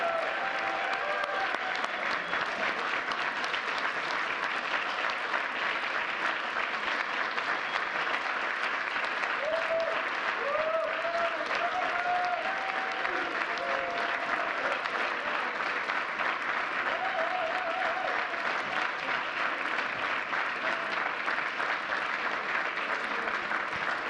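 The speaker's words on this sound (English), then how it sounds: "Let's give one more round of applause for this year's Presidential Freedom recipient." A long round of steady applause fills the room at a Presidential Medal of Freedom ceremony, a dense, even clapping from a seated audience that holds at a constant level throughout.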